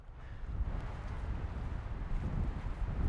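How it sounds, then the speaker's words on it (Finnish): Strong wind in the Vätsäri wilderness in Finnish Lapland roars and buffets steadily against the microphone, close and loud, with no talk. "Melkoinen tuuli käy täällä"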